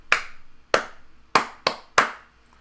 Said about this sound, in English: That familiar clapping pattern that you're used to when teachers want to get your attention would look like this